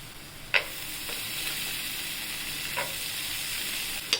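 Soaked peanuts with asafoetida and turmeric sautéing in hot oil for a spinach bhaji, a steady close sizzle with a few sharp scraping stirs of the spoon against the pan, no talk.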